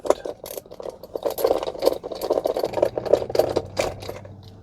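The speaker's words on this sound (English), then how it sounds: "it takes off two T25 screws right here. So let's go ahead and get those removed." Two T25 screws being removed from an interior cover of a Tesla Model 3/Y, a close, rapid whirring and rattling driver sound that runs steadily for several seconds.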